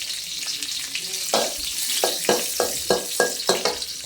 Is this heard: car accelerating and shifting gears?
no